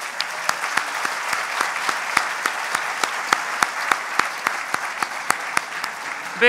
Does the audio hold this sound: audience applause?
yes